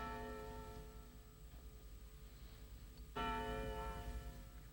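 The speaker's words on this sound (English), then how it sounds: "why don't they stop ringing that bell?" A church bell rings with a long sustained hum, then strikes again louder partway through, its tone lingering over a quiet background.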